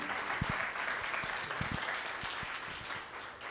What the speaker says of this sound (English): Let's give a round of applause for Dr. Neva Lozado.